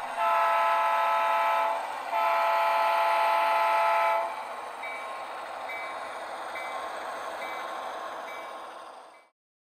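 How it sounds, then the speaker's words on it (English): A model train locomotive, fresh from the shop, runs as its throttle is notched up: loud, steady horn-like tones that break briefly and return, then a lower, even running drone that fades out, with no talk. "This locomotive is fresh out of the shop, so let's notch up the throttle and see what she can do."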